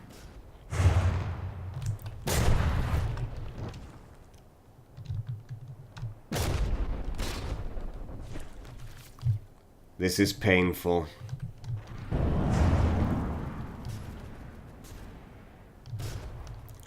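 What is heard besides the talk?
cannon fire in video game From the Depths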